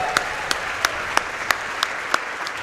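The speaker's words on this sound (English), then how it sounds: "Can we get some claps for the guys behind the scenes that got all this working?" Audience clapping and cheering at a Dark Souls III PC speedrun marathon event, a steady wash of applause from a crowd with sharper individual claps standing out roughly every third of a second.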